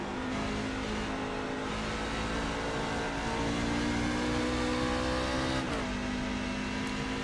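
A NASCAR truck in the iRacing simulator drones steadily under throttle, the engine note climbing and then dropping with a downshift near the end, continuous and loud with no talk.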